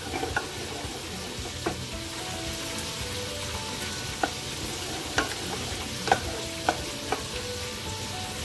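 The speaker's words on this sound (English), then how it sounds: "So keep stirring it." A barbecue honey sauce is stirred in a pan, with a soft continuous bubbling sizzle, occasional light clicks and taps of a utensil against the pan, and a few brief louder scrapes.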